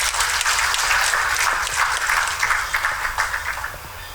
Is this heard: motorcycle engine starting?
no